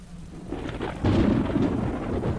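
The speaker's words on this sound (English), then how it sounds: "That night, there was an unexpected torrential rainstorm." A night thunderstorm with torrential rain during the Kumbh Mela pilgrimage at Allahabad, India: steady heavy rain under a deep rolling rumble of thunder that swells partway through, with no voices.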